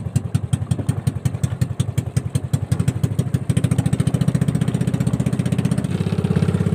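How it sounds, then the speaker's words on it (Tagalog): A small boat engine putters with rapid, regular chugging pulses, steady and close, the beat tightening slightly partway through as it keeps running. "Mandar na yung makina niya, naayos na."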